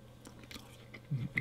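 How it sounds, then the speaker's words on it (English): A dense vegan marshmallow is chewed close to the mouth, giving soft, quiet squishy bites and a couple of slightly louder moist chomps near the end. "as I'm chewing it, I'm not sure if you can hear it"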